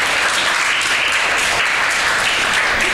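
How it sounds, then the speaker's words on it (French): Dense applause from a group at a school event, steady and sustained clapping throughout with no talking over it. "Applaudissez."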